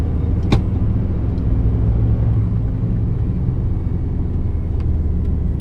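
Steady low engine rumble and road noise from inside a car with a check engine light on, heard close and constant, with a brief click near the start.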